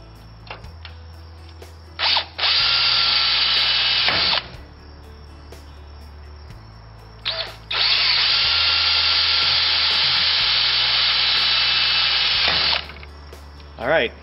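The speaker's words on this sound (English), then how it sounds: "I'm gonna drill two holes." A power drill boring holes in a trailer tongue jack tube: two long high-pitched whining runs with short trigger bursts between them, close and loud, with no talking over the drilling.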